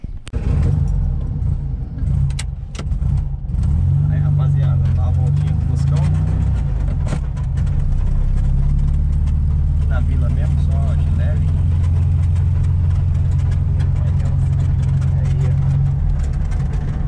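An air-cooled 1600 Volkswagen Beetle engine with electronic ignition runs steadily, a loud continuous low rumble close by that holds from start to finish with a brief rough patch early on.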